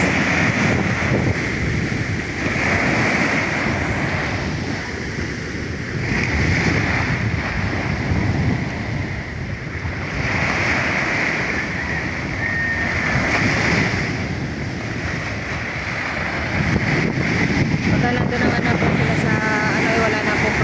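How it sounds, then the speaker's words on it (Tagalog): Big ocean waves pound the shore where fishing boats land, a loud rolling surge of surf with gusts of wind buffeting the microphone, swelling and easing in long cycles. "dito sa pinagsasadsadan po nila ay malalaki po yung alon"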